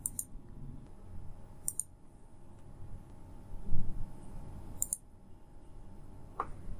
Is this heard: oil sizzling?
no